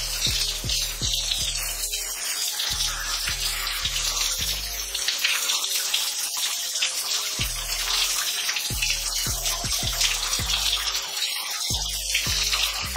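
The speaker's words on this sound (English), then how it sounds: "I'm literally just rinsing it with water" Running water pours steadily in a bathroom as hair is rinsed, a continuous close splashing rush with shifting spatter and no talking.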